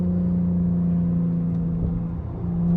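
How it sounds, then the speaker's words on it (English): A Chrysler 300 with both mufflers deleted drones loudly from inside the cabin as the engine revs through gear shifts, a strong steady exhaust hum that dips briefly before climbing again. "I have both of my mufflers deleted, so obviously my car is gonna sound a lot louder when I downshift, when I upshift"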